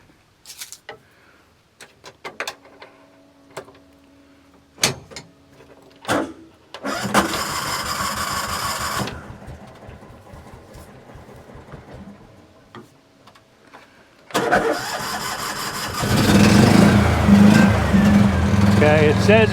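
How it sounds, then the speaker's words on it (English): A Kubota RTV400Ci utility vehicle starts up after some scattered clicks and knocks. The starter cranks with a rapid pulsing churn, the engine catches and runs, then grows louder and rougher near the end. "Let me start the Kubota."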